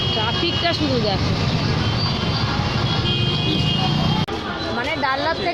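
Road traffic on the way to the Panihati fair near Sodepur, with cars and a bike moving through a busy roadway; a steady, loud wash of engine and road noise with babble and voices over it, briefly dipping near the end.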